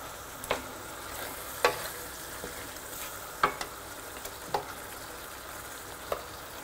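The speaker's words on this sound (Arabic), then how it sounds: "نقلبوا اللحم ديالنا من جميع الجهات باش ياخذ اللون" Meat stirred and browned in a pot for Moroccan prune lamb, a steady low sizzle under several sharp scrapes of the spoon spaced a second or so apart, close and moderately loud, no talk.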